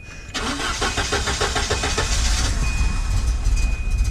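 A Volvo car engine with 260,000 kilometers cranks with a rapid rhythmic chugging, then catches and settles into a steady idle, loud and close.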